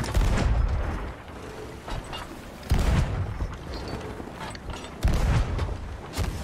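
Ship cannons booming in the pirate game Sea of Thieves, three heavy blasts spaced a couple of seconds apart, each with a creaking, rumbling tail over ambient ship and sea noise.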